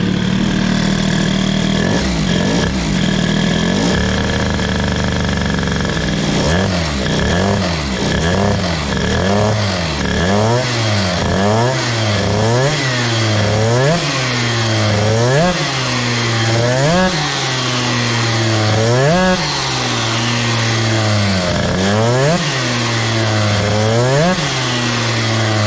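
Airsal T6 65cc moped engine with a boost head, running loud and close, its two-stroke note rising and falling in a steady series of revs over a rough idle throughout.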